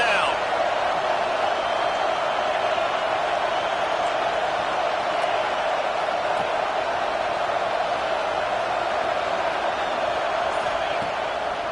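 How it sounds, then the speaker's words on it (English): A dense stadium crowd roars steadily and loudly in the video game College Football 26 on a third-down defensive stand. The din is unbroken and sustained throughout, with no break or rise. "Decibels rising as the crowd gets behind this defense on 3rd down."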